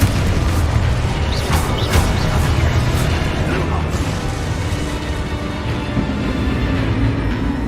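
Booming spell explosions from Hogwarts Legacy combat crash out in loud bursts, several arriving in quick succession over dense, continuous game noise.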